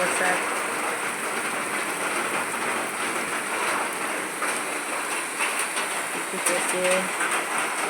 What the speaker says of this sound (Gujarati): અને વરસાદ તો ફૂલ ચાલુ છે